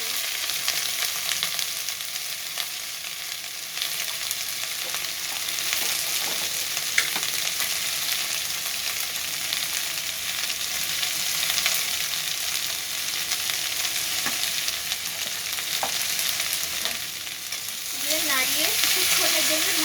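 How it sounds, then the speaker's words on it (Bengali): Okra and potato frying in a pan with turmeric and salt sprinkled on, an even, sustained sizzle with occasional faint stirring scrapes throughout. "কিছুক্ষণ ভেজে নেব এবার ওপর থেকে হলুদ গুঁড়ো আর লবণ গুঁড়ো দিয়ে"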